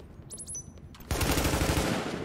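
An automated turret in The Division opens up with a sustained, rapid burst of close, loud fire after a moment of quieter game sound and a few short electronic beeps.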